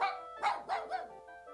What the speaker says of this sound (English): A little puppy barked at Chance.